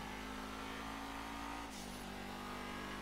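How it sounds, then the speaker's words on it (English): The Pisswasser Dominator race car engine in GTA V holds a steady, faint drone whose pitch steps down briefly midway, continuous and alone without talk. "the engine sound is better and more realistic"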